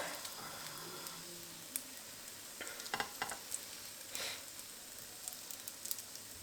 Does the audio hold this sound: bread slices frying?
yes